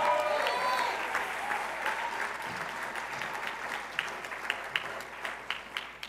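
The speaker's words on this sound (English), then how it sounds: "Let's give her a big round of applause." Town hall meeting audience clapping, starting under a fading voice and settling into scattered, moderately distant applause with a few sharper individual claps toward the end.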